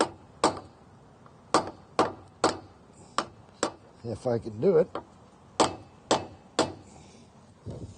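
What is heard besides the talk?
hammer tapping bearing buddy onto trailer wheel hub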